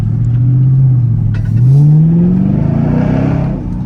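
Chevrolet Camaro SS V8 engine revving hard during pulls, rising and falling in pitch with a loud, close, throaty roar that climbs steadily through the middle and holds at the end.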